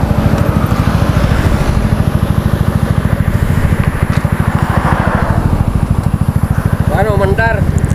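A Bajaj Dominar 400 motorcycle engine idling steadily after the bike went down on a broken road, a loud close rumble throughout with people talking over it.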